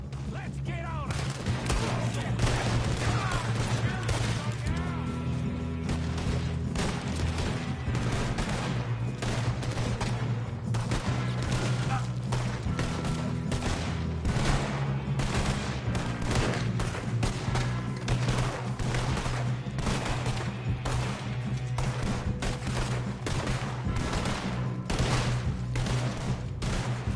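Steady gunfire from a shootout at a train in Red Dead Redemption 2, with shots packed densely over a loud, continuous bed of game music across the whole stretch.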